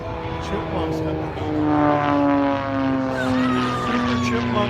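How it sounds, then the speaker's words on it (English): A de Havilland Super Chipmunk propeller plane flies overhead at a 2018 air show, its loud, droning engine rising and shifting in pitch as it passes, with people talking nearby. "That's an old de Havilland plane."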